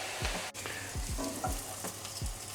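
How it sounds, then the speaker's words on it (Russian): Burger patty with the bun pressed on, frying in a hot pan with vegetable oil: steady quiet sizzle broken by several soft low pops and spatters, close, with no talk. "Жарим 3-4 минутки."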